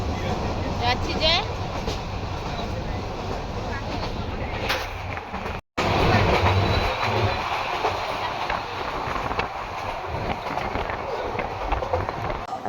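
Steady rumble and rattle of a passenger train in motion on the Feni route toward Brahmanbaria, heard from inside the carriage. The noise runs continuously except for a brief cut near the middle, with faint voices in the background.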